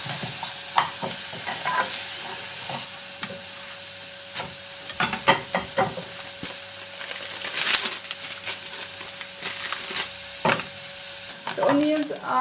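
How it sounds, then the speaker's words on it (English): Onions browning in a frying pan for a budget Desi breakfast give a steady close sizzle, broken by irregular scraping and clinking strokes from stirring. "just gonna brown these onions or soften them slightly"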